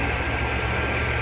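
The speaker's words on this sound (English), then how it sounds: "Started the truck." A truck engine idles with a steady low rumble, loud and close, continuous for the whole short moment without any talking, just after a dual alternator kit was installed.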